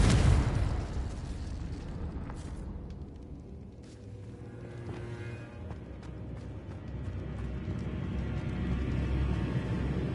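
A Confringo explosion spell in Hogwarts Legacy, a sharp loud blast at the start that rolls into a long rumbling, crackling tail, with game ambience continuing underneath.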